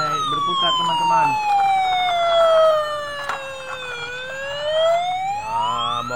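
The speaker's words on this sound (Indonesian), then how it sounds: "Nah, mobil polisi lagi patroli dia teman-teman." A toy police car siren wails in slow rising and falling sweeps, close and fairly loud, with a few clicks and handling noises around it.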